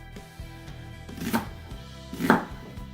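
A wide knife chops onions on a cutting board for homemade chili, giving two heavy, close, distinct thuds about a second apart over a faint background hum.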